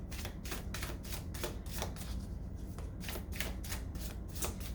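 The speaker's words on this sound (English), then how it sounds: "let me go ahead and pull a couple more cards for maybe another group" Tarot cards shuffled by hand, close rapid riffling flutters in repeated bursts with short pauses between them, steady and fairly quiet, no voices.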